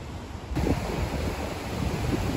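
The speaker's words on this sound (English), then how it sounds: "Look at the speed this water's running at." Fast-running river water swollen by heavy rain and flooding rushes under a bridge near Brougham Castle, a steady broadband roar with gusty wind buffeting the microphone, starting after a brief quieter half-second and holding constant.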